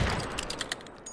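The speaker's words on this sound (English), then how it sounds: "Do you hear this gunshot?" Gunfire in a Roblox game crackles as a rapid burst of light pops over busy game noise, fairly faint and dense, with no talking.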